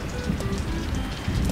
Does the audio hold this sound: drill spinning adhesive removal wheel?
no